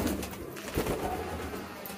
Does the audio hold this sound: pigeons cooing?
yes